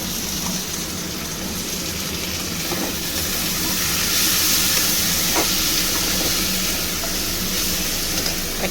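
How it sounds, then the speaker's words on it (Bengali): Onion, tomato paste and spices fry in a pan for a pomfret fish jhal, giving a steady, close sizzling hiss throughout with no talking. "এবার মশলাগুলো আমি খুব ভালো করে কষিয়ে নেব"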